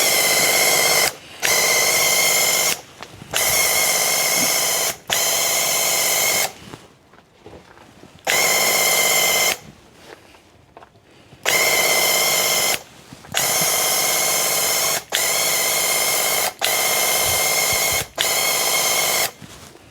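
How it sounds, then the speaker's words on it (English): A paint sprayer fires in repeated bursts of about one to two seconds, a steady loud hiss each time, separated by short silent gaps, with one longer pause partway through, while primer and paint go onto cabinet doors outdoors. "The way that I spray the primer and the paint is honestly all the same"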